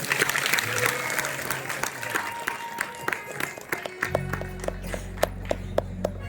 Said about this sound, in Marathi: टाळ्या वाजवा सगळ्यांनी बापूसाठी